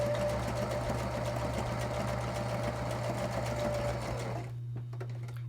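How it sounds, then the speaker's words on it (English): A sewing machine back stitching a quilted placemat runs steadily with a fast, even needle chatter for about four seconds, then stops, leaving a quieter hum with a few soft clicks. No one speaks. "I'm going to back stitch a couple stitches and then go on towards the corner"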